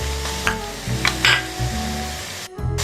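Finely chopped green chilies hit hot oil with whole round peppers for a Punjabi palak shaljam dish, sizzling steadily while a spoon scrapes and stirs the pan in short repeated strokes.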